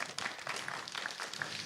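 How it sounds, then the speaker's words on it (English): Applause from a startup pitch-event audience, a steady wash of many hands clapping at moderate loudness for under two seconds, with no voices standing out. "Applause."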